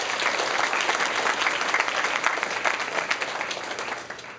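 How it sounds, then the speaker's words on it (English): A school audience at a Locks of Love hair-donation event applauds absent student hair donors. The clapping is full and sustained from the start, then eases off slightly near the end. "So let's give them a big round of applause."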